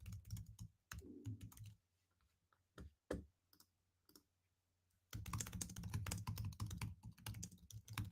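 Rapid clicking of computer keystrokes in uneven bursts, with a pause and scattered single taps in the middle before a dense, loud run of typing, close by with no talk.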